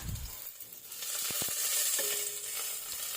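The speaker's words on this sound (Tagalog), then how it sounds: "igigisa ko sa mantika yung sibuyas at bawang" Onion and garlic sauté in hot oil for pork sinigang, a soft continuous frying hiss with a few light clinks of a utensil stirring the pan, no voices.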